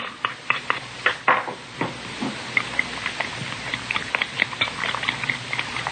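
A radio drama sound effect of omelet ingredients being mixed in a bowl: rapid, irregular clicks and taps of a utensil against the dish, close and fairly busy, with no voices over it.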